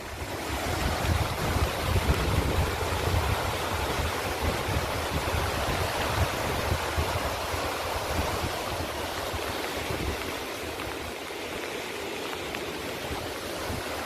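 Storm-swollen river water roars over the Padavedu Kesavapuram dam, near where two rivers meet, after Cyclone Fengal: a loud, continuous broadband rush with no voices.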